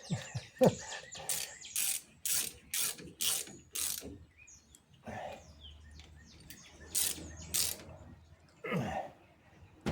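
A ratchet tightens axle seal bolts on a 1927 Chevy, with repeated bursts of rapid clicking spaced through the clip, close and fairly loud, and a bird calling faintly in the background.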